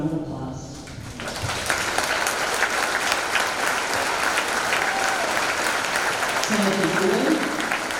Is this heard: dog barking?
no